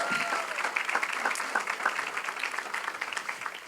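A church congregation breaks into applause for God during a sermon, an even spread of many hands clapping at moderate volume, with a few raised voices mixed in, sustained for the whole stretch.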